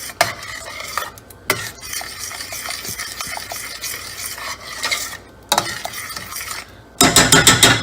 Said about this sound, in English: Just stir it in properly to ensure every part of it is properly stirred.